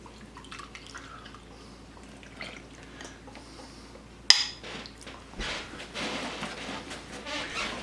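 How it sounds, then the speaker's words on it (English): A whisk beating pancake batter in a bowl, starting with faint dripping and clinks, then a sharp knock followed by quick, wet rhythmic sloshing and scraping up close. "we're going to whisk this up to make our batter"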